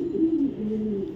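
A young light-coloured female maxi racing pigeon, a BRPFC 2023 bird, gives a close, low, rolling coo in two drawn-out phrases, alone and fairly loud.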